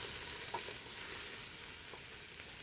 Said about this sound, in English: So all we do is put onions into the pan.